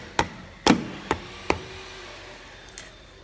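A small hammer taps a plastic piece into place: five or six sharp, separate knocks at uneven intervals, close and distinct against quiet background.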